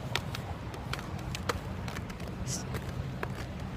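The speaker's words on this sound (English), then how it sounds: "just listen to my footsteps" Footsteps crunching across icy ground, a steady run of sharp, crisp steps at close range over a constant low rumble of outdoor background noise.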